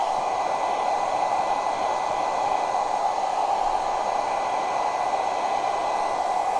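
A hair dryer blows close and loud in a steady, unbroken whoosh, drying blue paste on a craft jar.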